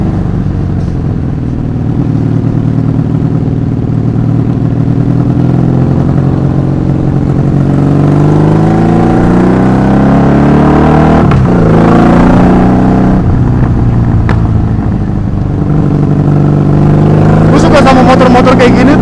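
A 1984 Honda Magna 750cc V-twin motorcycle revs and pulls through gears on a road ride, engine pitch climbing in long loud sweeps, easing off, then rising again close up.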